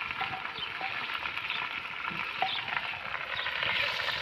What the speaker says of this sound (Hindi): इसको भी हम अच्छी तरीके से फ्राई करेंगे।